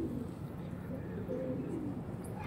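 Pigeons coo softly and steadily, low and somewhat distant, over a constant background hum. These are quality female pigeons in a loft or market setting.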